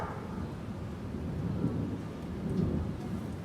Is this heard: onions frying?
no